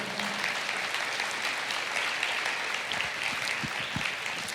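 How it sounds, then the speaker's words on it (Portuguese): A church congregation claps during a service, with fairly faint, even applause that continues through the whole stretch and a few low thumps near the end. "Pode aplaudir o Senhor?"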